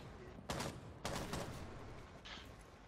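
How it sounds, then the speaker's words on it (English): Video game gunfire from a lobby area, with two sharp broadband bursts close together near the start, then a softer shot later, over a steady background of game ambience. "I'm getting shot at from lobby"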